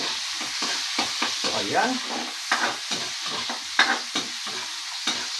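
Chopped onion dropped into hot oil and sautéed for Filipino string bean adobo, with steady sizzling and repeated spatula stirring scrapes close by in the pan.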